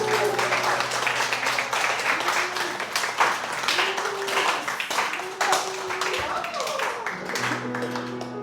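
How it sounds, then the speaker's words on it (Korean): A church congregation applauds together, the clapping a steady dense wash of many hands with a voice speaking over it throughout. "우리 함께 박수하겠습니다"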